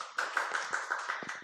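Applause from an audience welcoming a lecturer to an online workers' union lecture, a steady run of many hands clapping throughout, moderately quiet with no voices.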